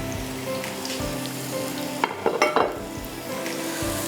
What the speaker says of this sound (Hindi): और यहाँ प्याज को अच्छी तरह गोल्डन करना है